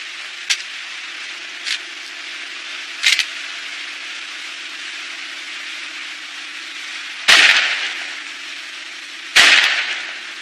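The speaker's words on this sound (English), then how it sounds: "Rock, bring me the Remington and the Hydra API ammo while you're at it." Remington rifle fired at a drone in an anime action scene: several sharp cracks, two of them loud booming shots with decaying tails, over a steady low hum.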